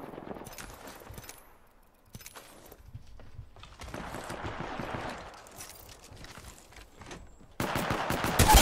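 Gunfire in the Apex Legends video game: scattered sharp shots and short automatic bursts at varying distances, swelling into a louder sustained volley near the end, with no speech.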